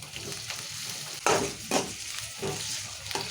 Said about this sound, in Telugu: ఉల్లిగడ్డలు వేగినాయి ఇప్పుడు సన్నం కోసి పెట్టుకున్న మిరపకాయలు పచ్చిమిరపకాయలు వేద్దాము